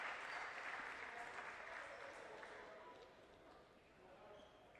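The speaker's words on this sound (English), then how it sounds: "nice round of applause for the young man" A high school basketball gym crowd at a holiday classic tournament game applauds steadily for an injured player back on his feet, the broad clapping filling the space and slowly easing off, with a commentator talking over it.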